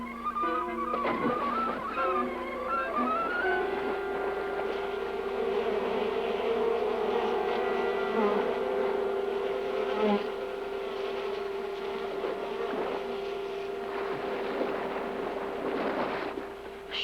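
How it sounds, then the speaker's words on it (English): A swarm of angry bees drones in a dense, continuous buzz, loud and close, rising and wavering throughout with no talking. "Must have been northern bees come down from the Dakotas for hiving."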